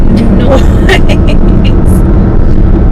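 A 2018 Alfa Romeo Stelvio Q4 SUV engine while driving, a loud, steady low rumble heard from inside the cabin, with talking over it throughout.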